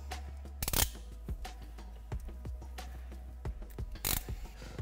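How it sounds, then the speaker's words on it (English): Small clicks and snips ring out close by as ignition coil wire insulation is cut for a female terminal on a classic Mustang, with a few sharper crunching cuts among lighter mechanical ticks. "Cut the insulation."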